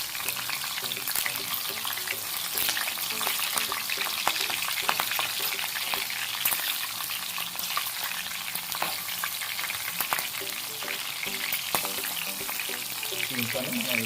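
Curry leaves and slit green chillies fry in hot oil over a medium flame, a steady close crackling sizzle that carries on throughout with no pauses.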